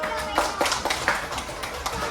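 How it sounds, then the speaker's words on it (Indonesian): Children in a classroom clap their hands in a steady, rapid rhythm, close by and fairly loud, with no other sound standing out. "Tepuk tangan dulu."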